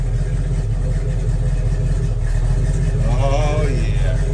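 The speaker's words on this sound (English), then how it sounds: "Hear that exhaust for the first time this year." A 1970 Ford Mustang Mach 1 runs on its first cold start of the year after sitting a long time, with a loud, steady low exhaust rumble close by and a brief rise in pitch toward the end.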